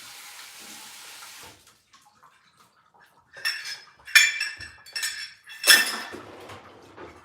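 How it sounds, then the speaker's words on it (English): Water running in a kitchen sink as a container is rinsed, with clinking dishes and cutlery in a few loud bursts after a steady stream and a quiet pause. "Rinse that."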